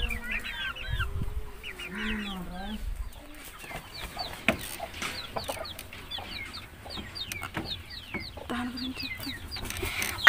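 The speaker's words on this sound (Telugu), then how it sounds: "చూడండి, ఇదే పెట్ట." Backyard hen clucking among other chickens, with repeated short clucks and calls up close, mixed with rooster-like calls and faint background bird chirps.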